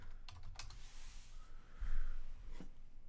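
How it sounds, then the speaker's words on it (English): Quick keystrokes on a computer keyboard in a short burst, close and fairly soft, with a brief breathy pause in the middle and a final tap; no speech. "Let me type in degree."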